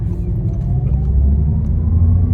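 Audi RS e-Tron GT electric car driving, a steady low rumble and road hum that stays loud and constant throughout, with no distinct engine revs.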